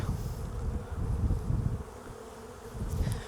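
Honey bees on a lifted hive frame make a dense, close, continuous buzz with low droning hum throughout, with no talking.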